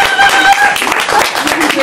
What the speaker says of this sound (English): Maybe we should start right at the beginning with a huge applause for Renata and Susan.